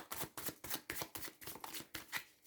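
Cartomancy cards are shuffled in quick, soft riffling bursts, roughly ten rhythmic flutters close to the microphone, quiet and without talk.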